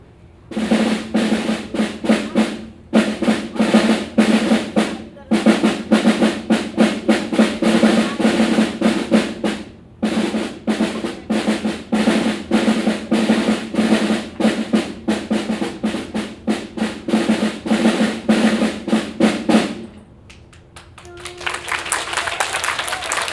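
A school drumline's snare drums play tight, rapid rhythmic patterns with rolls and sharp accents, stopping briefly a few times, before ending and giving way to a different noise.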